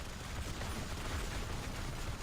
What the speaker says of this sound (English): It's range melee and it's giving you some area explosion